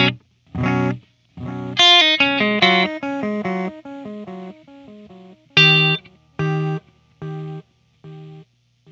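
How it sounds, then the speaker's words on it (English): A Boss Waza DM-2w delay pedal repeats guitar notes as echoes, each tone followed by decaying copies in a steady rhythm that comes close and loud, with no talking. "The repeat rate controls how fast or slow our echo repeats."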